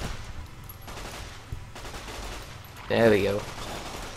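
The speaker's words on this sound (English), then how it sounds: "Let's do a bit of the old submachine gun." Submachine gun fire in Fallout: New Vegas: a few muffled shots amid game noise, then a louder burst near the end, while someone talks briefly over it.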